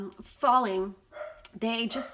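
A dog barks several times indoors, loud and close, in short bursts that overlap and interrupt a person speaking.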